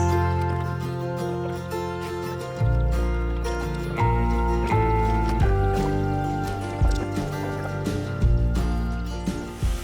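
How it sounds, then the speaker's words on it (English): Water pouring out of an unplugged drain bung on a full pressure tank in a pump shed, a steady gushing flow with gurgling surges, close and continuous. "undo the bung and watch all the water come out"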